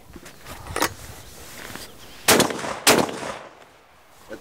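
A Turkish Altobelli double-barrel shotgun fires at an outdoor range during a long endurance test, several sharp loud reports spaced apart, two of them strongest near the end, over faint background rustle.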